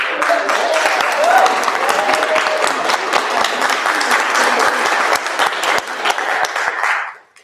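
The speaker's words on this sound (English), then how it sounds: "Please join me in applauding Soon-Young for her vision" An audience applauds at an award ceremony, loud and sustained clapping from many hands for about seven seconds before fading quickly at the end, with a faint voice briefly audible early on.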